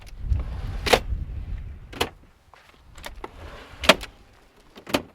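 Camper drawers in a Subaru Outback sleeping platform, released with blue tabs and slid along, giving several sharp clicks and knocks as they latch into lockout points, close and fairly loud.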